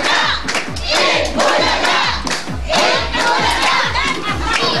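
A crowd shouts and cheers loudly and continuously, voices overlapping in rhythmic bursts like a chant or battle cry, close and energetic.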